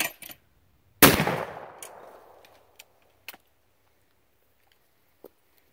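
A single loud, close Baikal shotgun blast at clay targets, with a long ringing decay of the report outdoors, then a few faint clicks and taps.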